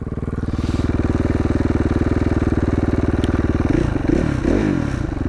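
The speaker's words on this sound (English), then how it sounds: "I don't know what this bike's supposed to rev out to." A 2016 KTM 450 XCF dirt bike engine runs loud and close in a steady rapid thumping idle, then is blipped into a few short revs near the end, with no talk over it.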